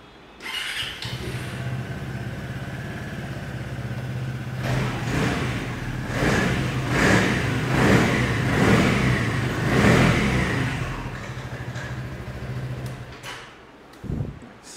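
A Kawasaki Z900 superbike fires up and settles into a steady idle, then its engine is revved again and again in a string of loud, rising bursts before it drops back to idle and cuts off.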